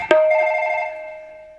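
After a call is placed, a phone's ringing tone sounds once, a single loud tonal ring with a sharp onset that fades over about a second and a half, with no voices.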